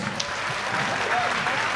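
A crowd at a kickboxing fight night applauds both fighters before the decision, a brief, steady wash of clapping heard at moderate distance with no voices on top.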